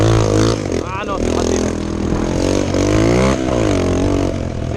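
A motorbike on sand revved almost to full throttle, its engine roaring loud and close with rising and falling pitch sweeps as it accelerates, and a voice speaks over it.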